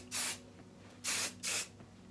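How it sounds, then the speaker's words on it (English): Three short hissing bursts of hairspray misted over freshly curled, loose waves, the first and the last two spaced close together, each bright and airy against a quiet room. "I'm gonna bring everything to the front and do one more spray."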